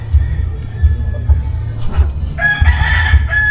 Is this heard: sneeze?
no